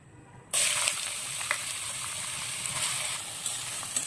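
Onions dropped into hot mustard oil with cardamom in a kadai, bursting into a sudden loud sizzle that settles into a steady close hiss.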